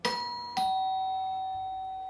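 A doorbell chimes twice, two bright tones struck about half a second apart, the second ringing on and fading slowly in a quiet room.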